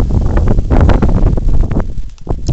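Steady wind buffeting the microphone in Novohrad-Volynskyi (Zviahel), Ukraine, a loud rumbling roar with gusty rustle that eases off near the end.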